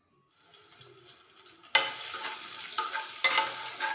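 Vegetables and mint frying in a pan for tomato pappu: a quiet start, then a sudden loud sizzle as ingredients hit the hot oil, followed by steady frying with a few stirring scrapes.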